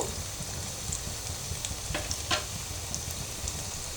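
Shami beef kababs fry in oil in a pan, giving a steady, moderately quiet sizzle with scattered small pops and crackles throughout and no voices.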